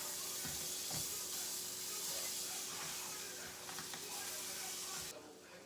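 Butter sizzles in a hot pan of browned lion's mane and oyster mushrooms, a steady close hiss and crackle that runs throughout and drops away near the end.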